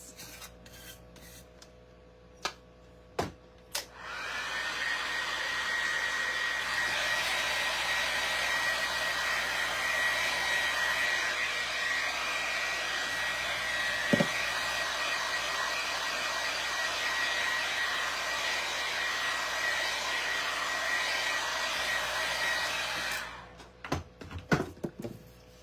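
A hair dryer blows on a green wall decor craft piece, a steady loud whir with a thin whine that runs for about nineteen seconds, switching on and off sharply, with a few clicks and knocks before and after.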